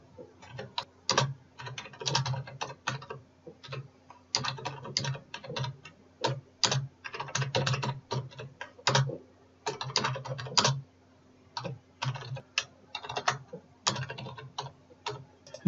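Steady bursts of close computer keyboard typing as C++ code is entered, quick clicky keystrokes in clusters separated by brief pauses, with no speech.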